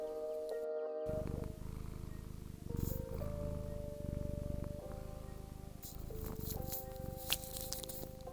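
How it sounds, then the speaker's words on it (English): A steady low rumbling purr from a cat, close by, continuing through the clip with a few soft shifts in tone and small rustles. "my cat is cuddling with me while I do this voiceover, and can you hear her purring?"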